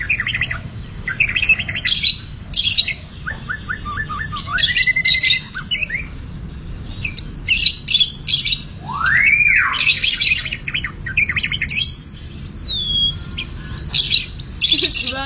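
Chirps, squawks and whistled calls from several songbirds, likely including a white-rumped shama (murai batu), come in repeated bursts with short gaps, fairly close and loud over a steady low background hum.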